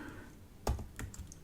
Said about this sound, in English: once I start typing this